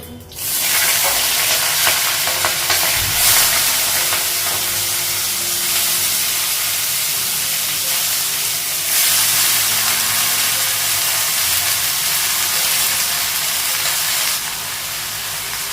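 Whole cumin seeds and green chilies fry in hot oil in a kadai, giving a loud, steady sizzle and crackle that runs unbroken from start to finish with no talking.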